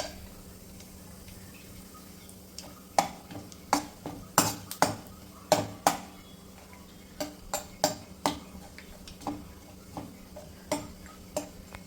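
Almonds being stirred in a pan while frying for rava kesari, heard as irregular light metallic clinks and ticks of a spoon against the pan, close and clear over a quiet background.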